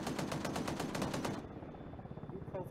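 A mounted gun fires from a gunner seat in a video game, a rapid, evenly spaced burst of loud shots for about a second and a half before cutting off into quieter mechanical rumble.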